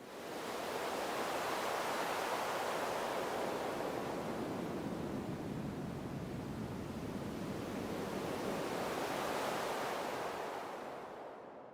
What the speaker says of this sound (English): It's sound effects. Time wind, here it is